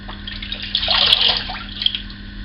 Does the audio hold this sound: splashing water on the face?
yes